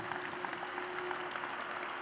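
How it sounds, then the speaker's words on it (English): A church congregation claps together in a steady, moderately loud burst of applause, with a constant hum running underneath and no speech. "Let's clap for Jesus Christ."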